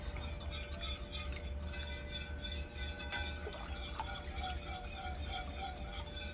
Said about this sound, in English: Get scraping the sides of my pan.